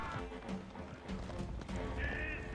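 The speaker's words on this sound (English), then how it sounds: "he's losing so much army here with Sassy just doing a really good job at kiting these horse archers" Horse archers gallop in an Age of Empires game with rapid clip-clop hooves and a neigh, mixed into a busy battle soundscape.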